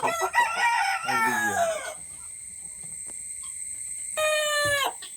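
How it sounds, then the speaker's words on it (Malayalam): A native rooster, kept together with other roosters and turkeys, crows loudly and close, a long drawn-out call, then falls quiet before a second shorter crow near the end. "ഇവിടെ പൂവൻ കോഴി, നാടൻ പൂവൻ കോഴി, ടർക്കി എല്ലാവരും ഒരുമിച്ചാണ്"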